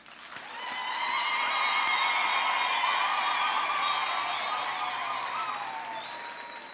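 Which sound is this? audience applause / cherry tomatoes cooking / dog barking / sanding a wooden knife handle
audience applause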